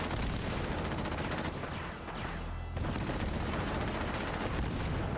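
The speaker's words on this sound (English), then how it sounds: "I keep on swearing that I hear an explosion coming from over there." Dense crackle of distant gunfire and rumbling explosions from a post-apocalyptic Commonwealth battle in a video game, continuous and fairly loud with a brief lull midway before the barrage resumes, no talking.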